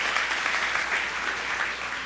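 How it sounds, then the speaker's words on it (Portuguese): A church congregation gives steady, dense applause that fills the whole stretch evenly, with no voices above it. "Você pode dar um forte aplauso ao Senhor?"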